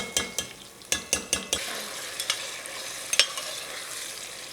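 Garlic frying in a pan for a chicken and spinach stew, a steady sizzle punctuated by a quick series of sharp clinks and scrapes from stirring with a utensil, then softer intermittent taps.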